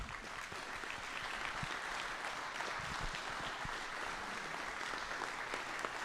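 Steady, dense audience applause at a 2024 annual meeting, a continuous even wash of clapping held at one level for several seconds with no break.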